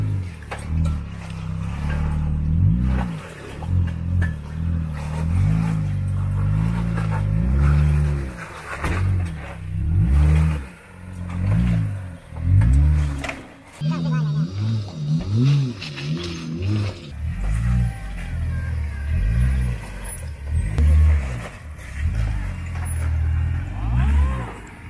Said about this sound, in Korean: 이거는 신형 JL 2도어 루비콘인데 37인치 타이어를 껴놨어요.